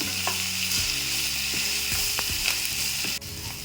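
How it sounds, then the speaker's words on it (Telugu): Broad beans curry is stirred in a frying pan, a constant sizzle and low hum punctuated by several short scraping clacks of the spoon against the pan, close and fairly loud. "ఇప్పుడు మళ్ళా ఒకసారి కలుపుకుందాం."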